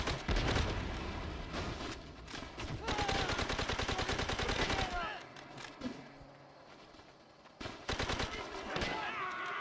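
Call of Duty: World at War on the Wii, with rapid automatic gunfire in long, loud bursts and single shots breaking off into quieter gaps. Voices and game effects run between the volleys.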